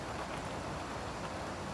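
Heavy rain pours down in Seoul in May 2018, a dense, steady hiss of water hitting surfaces that fills the whole brief moment without any pause.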